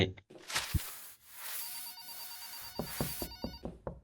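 Electronic telephone ring in the horror cleaning game Just Cleaning, a steady trilling tone lasting several seconds, with short thumps and clicks of game action and a brief voice nearby.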